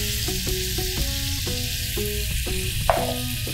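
White onion and chopped garlic sauté in a pan with a steady close sizzle. Short scraping stir strokes recur rhythmically over it.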